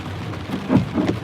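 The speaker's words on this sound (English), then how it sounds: "It just happened to start raining." Rain falls steadily in a constant broadband hiss, with a couple of slightly louder swells partway through and no talking.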